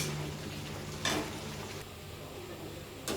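Coconut and sugar syrup for Bengali coconut ladoo cook in a pan, giving a steady low sizzle. Two brief scraping bursts from stirring stand out against it.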